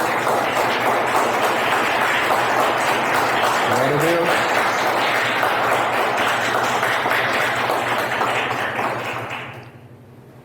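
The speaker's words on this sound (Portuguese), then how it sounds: "Vamos aplaudir o Senhor Jesus?" Church congregation applauding Jesus during a Portuguese-language sermon, a loud continuous wall of clapping for about nine seconds while a voice speaks over it, then fading abruptly into quiet.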